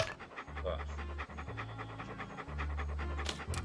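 A dog in Monkey Island 2 pants in a quick, steady rhythm, close and fairly loud, breathy huffs repeating without a break.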